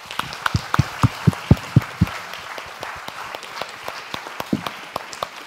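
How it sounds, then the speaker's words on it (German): Applause for the Watergater Pro team at Jugend hackt in Munich 2023 comes from a small group: sparse, uneven claps with a few sharp, louder hits early on, thinning into scattered patters. "Das ist euer Applaus, Freunde der Watergator Pro"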